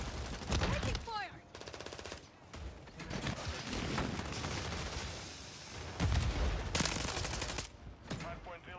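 Call of Duty MW3 firefight with repeated rapid automatic gunfire bursts and scattered single shots, loud and close, with clattering impacts and brief in-game voice callouts between volleys.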